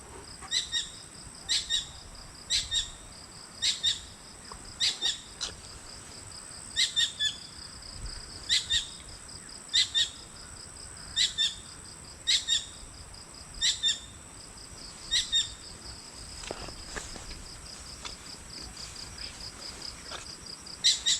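A bird high in a tree beside a rice field repeatedly calls with short high chirps at a steady rhythm over a faint outdoor hiss, about a dozen calls spaced a second or two apart.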